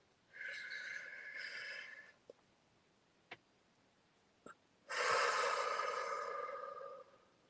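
A slow, deep breath drawn in and then blown out, two long soft airy swells separated by a few faint clicks, close and quiet with no talking, during a relaxation exercise before a medium's reading.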